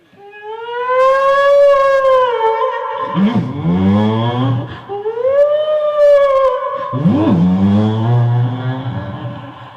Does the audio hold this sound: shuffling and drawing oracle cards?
no